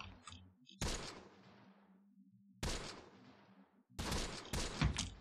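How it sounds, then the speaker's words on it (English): Sharp gunshots from a Close Combat The Bloody First battle: three or four loud distant-sounding bursts separated by quiet gaps over a low steady hum. "there's still actually a lot of firing coming in"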